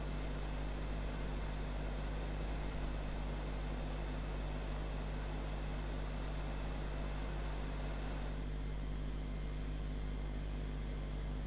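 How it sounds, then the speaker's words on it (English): A vehicle engine in Farming Simulator 25 runs at a steady idle-like drone, constant and moderately loud with a low hum throughout, no speech over it. "The engine is started."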